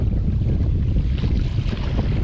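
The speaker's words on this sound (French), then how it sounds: "je sens le vent qui prend dans la tresse là" Steady wind buffets the microphone on the Brittany coast during a fishing outing, a dense continuous rush with low rumble and a watery, surf-like hiss throughout, no voices.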